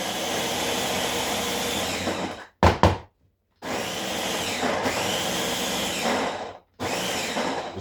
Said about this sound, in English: We'll go into this Ninja food processor here with the lid on.